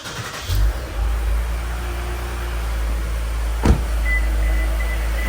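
2024 Lexus IS350 engine starting after an oil change: a brief starter crank and a sharp catch, then a low, steady idle hum close by, with a thin, faint whine running over it.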